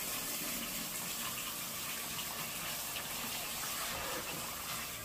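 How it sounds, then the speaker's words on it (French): Running water gushes steadily while hair is rinsed, a soft, continuous splashing stream heard close by with no talking. "Maintenant, on va passer au rinçage."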